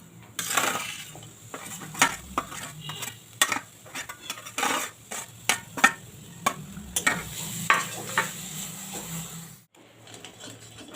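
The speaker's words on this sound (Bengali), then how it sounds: "আমি কড়াই চাপিয়ে দিয়েছি নারকেলের পুরটা তৈরি করার জন্যে। এখানে গুড় আর নারকেলটা আমি দিয়ে দিচ্ছি।" Grated coconut and jaggery filling is stirred in a wok, with repeated scraping clanks of a spoon against the metal and a light sizzle beneath, up close and rhythmic, ending in a short pause.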